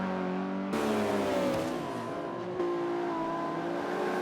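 Racing cars, a Scirocco and a BMW, in the racing game Forza 5: engines rev hard, with abrupt gear changes near one second and again around two and a half seconds, then climb steadily again, loud and close, with no talk.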